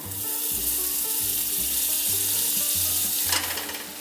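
Food frying in a pan during home cooking, with a continuous loud sizzle, a low rhythmic hum underneath and a brief burst of crackle near the end, with no talk.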